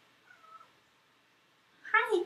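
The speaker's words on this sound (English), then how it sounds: "She's a little stray cat." A small stray cat gives two close meows, a thin faint one first and then a louder, clearer one after a short quiet pause.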